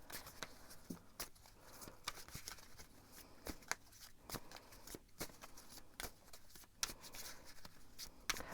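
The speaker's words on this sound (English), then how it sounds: "I'm going to shuffle" Tarot cards are shuffled by hand close to the microphone, a quiet run of crisp riffling snaps and slides repeating at an uneven rhythm with no talking.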